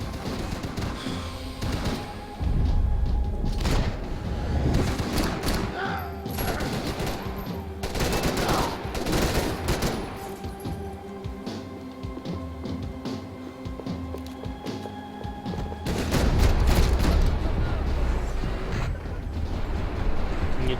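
Gunfire crackles through a Max Payne 3 gunfight: dense bursts of shots and rapid volleys, loud and close, with a few heavier blasts and a person speaking briefly at moments.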